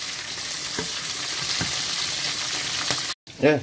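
Shrimp frying in hot oil in a pan, a loud steady sizzle with a few sharper spatters, cut off by a brief silence and followed by a short voice.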